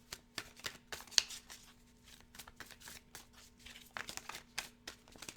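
A pile of mixed oracle cards being shuffled by hand, soft close riffles and papery flicks in irregular bursts, quiet and alone with no talk.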